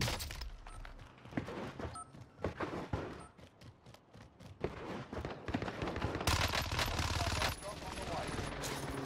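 Fennec submachine gun firing in Call of Duty on Rebirth Island, rapid close bursts of gunfire with sharp cracks and dense automatic runs, a voice talking over it at times.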